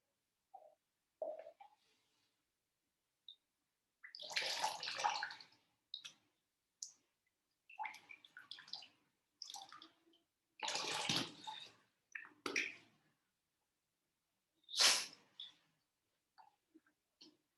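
Water trickles and drips from the nose during jal neti nasal cleansing, in short irregular bursts of splashing separated by silences, close and moderately loud, with no talking.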